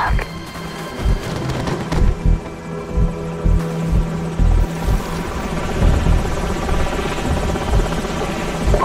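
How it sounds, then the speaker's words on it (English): Enemy helicopters in a Call of Duty game, loud rhythmic rotor throbbing close by, with booming impacts and a low hum over the battle. "Enemy helicopters."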